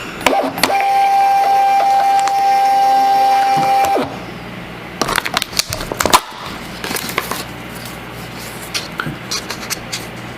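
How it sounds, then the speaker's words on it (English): A Rollo label printer printing a shipping label gives a steady motorized whir for about four seconds, followed by scattered close clicks and rustling as the label is handled. "we are gonna go to Rollo printer, and we are gonna print this"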